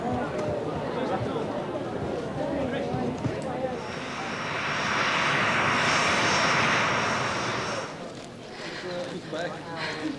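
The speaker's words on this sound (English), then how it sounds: "Flight EZY017 to Edinburgh is leaving." An easyJet airliner departs with its jet engines roaring, the noise swelling to a broad peak and then fading, heard at a distance beneath people talking.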